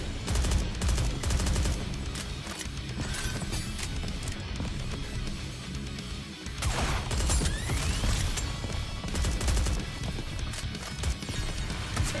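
Rapid gunfire volley in Genshin Impact, dense overlapping shots over a busy game soundtrack with hoofbeat-like clatter, loud and continuous throughout.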